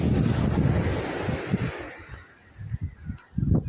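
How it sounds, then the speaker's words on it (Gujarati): Ocean waves wash onto the seashore near Amani Beach Villa in a continuous rushing surge, with heavy wind buffeting the microphone and a few low thumps near the end. "આપણે આવી જાય સમુદ્રના કિનારે"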